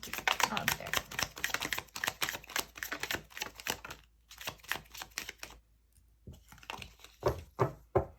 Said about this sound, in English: So I shuffled the cards.